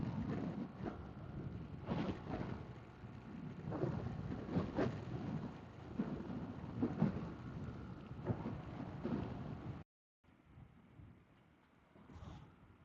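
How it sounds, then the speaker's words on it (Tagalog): Heavy rain with rolling thunder during a motorcycle ride in northern Luzon, a steady broadband downpour roar with rumbling bursts, briefly cutting out near the end before resuming more quietly. "Ah, mukhang malakas-lakas na ulan yan."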